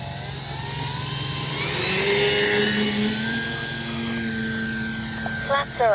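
A Dynam DHC Beaver V2 radio-controlled plane takes off, its electric motor whining and rising in pitch as it speeds up, moving close and loud with a steady drone and a brief clatter near the end.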